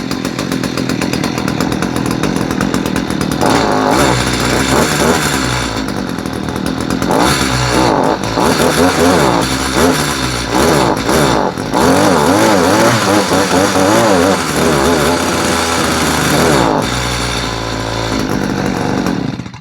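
A small two-stroke petrol engine on a power tool runs loudly up close, revving up and down in rising and falling whines before settling near the end.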